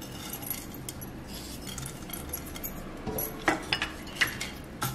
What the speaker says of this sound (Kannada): ಅಗಸೆ ಬೀಜ, ಫ್ಲಾಕ್ಸ್ ಸೀಡ್ಸ್ ಹಾಕೋಣ.